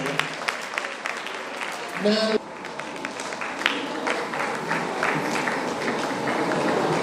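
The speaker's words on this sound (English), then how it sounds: "Give her a round of applause" Audience applause for a school's examination record officer at a 2022 orientation programme, a broad patter of clapping running through the whole stretch with a voice speaking over it.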